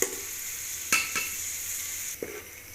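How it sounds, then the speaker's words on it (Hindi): Onions browning in a pan for an aloo dal chana dish give a steady, moderate sizzle, broken by a few brief stirring scrapes; no one speaks. "जैसे प्याज ब्राउन होते हैं"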